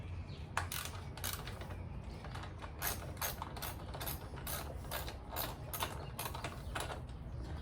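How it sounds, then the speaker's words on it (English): Ratchet wrench loosening a bolt on the airbox of a Triumph Thruxton 900 motorcycle, quick repeated clicking strokes in bursts, close and fairly quiet. "Loosen up this one as well."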